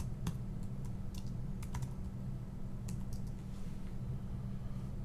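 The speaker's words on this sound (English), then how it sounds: "So I'll just type in his name." Computer keyboard being typed on to enter a name, a run of light, irregular key clicks close by over a steady low hum, with no one speaking.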